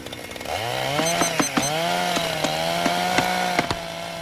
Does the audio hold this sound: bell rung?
no